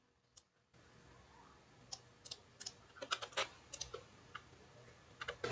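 Sparse, light key taps on a computer keyboard while a passphrase is entered, starting slowly and then quickening into clustered clicks, with a final louder keystroke at the end.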